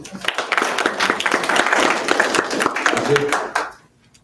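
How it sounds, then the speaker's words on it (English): An audience at a town hall on funding Black- and Brown-led organizations applauds a participant named Virginia, with steady dense clapping lasting a few seconds before fading out at the end. "Give Virginia a round of applause"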